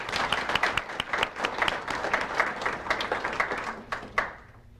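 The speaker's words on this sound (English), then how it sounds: "So if you join me in applauding those who are here and for all the others who are not." Audience applause for award winners at a 1998 lecture event, a steady patter of many hands clapping for several seconds before tapering off with a few last claps.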